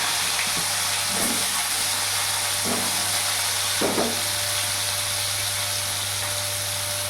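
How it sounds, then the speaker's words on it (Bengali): Potatoes frying in oil while being cooked for a katla fish curry with ridge gourd give a steady, moderate hiss, marked by a few soft clatters of stirring; no one speaks. "আলুটাকে লাল লাল করে ভেজে নেব"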